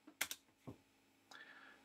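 Keystrokes on a computer keyboard as a Linux command is typed, a quick cluster of clicks followed by a single press and then a brief soft tone, all faint and close with no voices.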